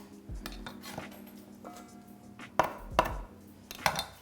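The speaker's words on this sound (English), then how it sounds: "Chop of some celery tops." A knife chops celery tops on a cutting board in a kitchen, giving a few sharp, close knocks with clinking of utensils between them and no talk over it.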